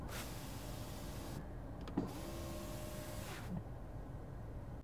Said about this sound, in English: The window motors are so smooth.